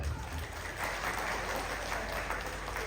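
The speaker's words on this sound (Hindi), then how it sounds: "एक बार जोरदार ताली बजाएंगे" A crowd applauds steadily, a dense wash of clapping that holds at an even level throughout.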